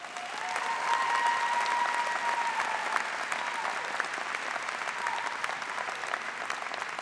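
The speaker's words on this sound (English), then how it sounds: "Please give a round of applause." Steady audience applause at a university chemistry and biochemistry commencement ceremony, a dense, even wash of clapping from a large crowd that holds at moderate level for several seconds without fading, with a faint voice in the background.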